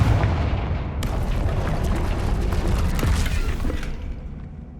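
Blasting curse explosion from the video game Hogwarts Legacy, a loud, dense rumbling burst that fills the whole clip with heavy low booms and crackling debris, a sharp impact near the one-second mark, then slowly fading toward the end.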